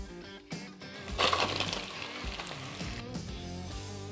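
Zucchini half-moons hit a pan with browned sausage, a sizzling frying hiss rising as they land, with clattering pieces and soft stirring over a background of music.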